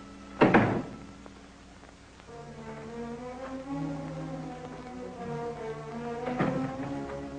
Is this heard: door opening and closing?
yes